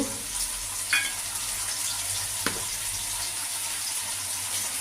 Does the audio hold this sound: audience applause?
no